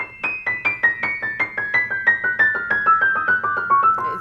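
On piano, a descending two-octave chromatic scale in thirds from the Liebestraum No. 3 cadenza by Liszt, a steady stream of paired notes struck evenly and stepping down in pitch, played close and alone.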